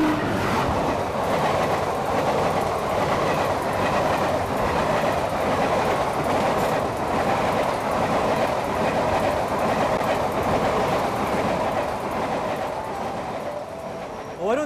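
Heard from aboard the Kannur–Mangalore passenger train, a continuous loud rumble of wheels on rail runs with a steady rhythmic clatter throughout, easing off slightly toward the end.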